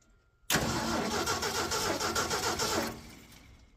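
An Asplundh JEY wood chipper engine cranks and catches for about two and a half seconds, a loud, close, rough churning that cuts off abruptly into quiet.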